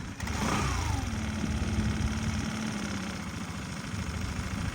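A Suzuki Address V125 S scooter engine idles steadily, a continuous even rumble with no changes in pace, heard up close.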